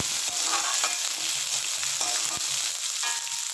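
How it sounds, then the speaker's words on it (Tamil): Shallots sauté in hot oil with garlic and curry leaves, a steady close sizzle and crackle with a few scraping stirs of a spoon in the pan. "இப்போ வந்து இது லைட்டாக வதக்கி எடுத்துக்கலாம்."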